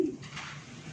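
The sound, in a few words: pigeons cooing in a pigeon loft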